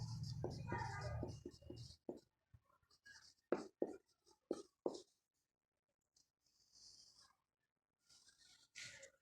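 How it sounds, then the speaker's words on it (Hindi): Pen or marker strokes on a surface, written out as place names during a lesson on Palaeolithic sites; short scratchy bursts come in a loose rhythm with pauses, close and moderately loud, after a voice at the start. "यहाँ पे मैं उन स्थल को लिख रही हूँ, उन प्लेसेस को लिख रही हूँ"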